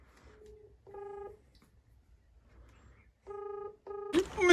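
A phone number is keyed in for a prank call. About four separate dialing beeps come at uneven intervals, closely miked and moderately loud, and the last is followed by a brief clatter of handling noise.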